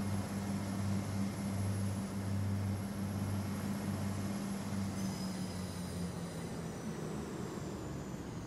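A Class 185 diesel multiple-unit train passing through Huddersfield station, a loud steady rumble of engines and wheels with a continuous drone and high wheel squeal, heard alone without talk.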